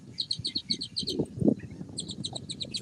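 A shorebird flock calls from the shoreline near a freshwater discharge, bursts of rapid high chattering notes repeating against a low rumble of wind and distant background noise.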